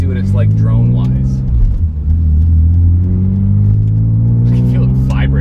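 Cabin drone of an E46 BMW fitted with custom exhaust and headers, heard from inside with windows up and air conditioning running: a loud, steady low engine hum that dips briefly midway, with a voice talking over it.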